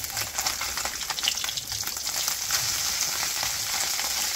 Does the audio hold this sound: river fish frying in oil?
yes